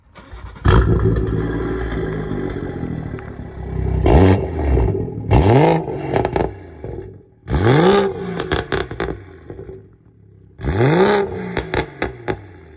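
A modified car exhaust with its valve open in sport mode barks through several hard revs, each burst rising and falling sharply, separated by near-silent gaps and ending with crackling pops.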